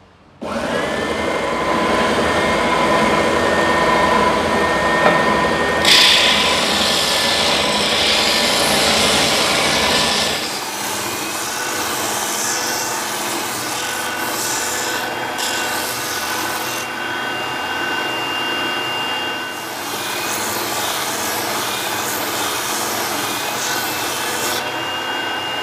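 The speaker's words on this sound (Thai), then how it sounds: "อันนี้เดี๋ยวผมเอาไปขัดนะครับ" A power sanding tool with sandpaper works over wood in a carpenter's workshop, a loud continuous rasping whir that shifts in pitch and intensity as the pressure changes, with no voices.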